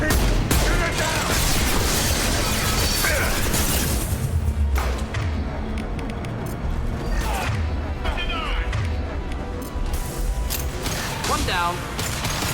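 Gunfire in Mass Effect Legendary Edition on PC, shooting at a loose fuel tank until it crashes down: rapid bursts of shots and heavy thuds, booms and shattering clatter, loud and constant, with game characters talking over the fight.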